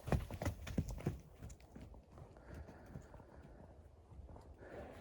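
Horses on a Ukrainian farm clop their hooves in a quick cluster of close, sharp steps, then quieter shuffling and faint movement follow at low level.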